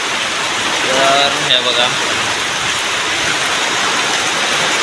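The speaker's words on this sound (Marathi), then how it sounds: "तर बघा वार आणि पाऊस जबरदस्त लागता" Heavy monsoon rain with wind in the Konkan countryside makes a loud, steady broadband hiss that continues without a break, while someone talks briefly over it.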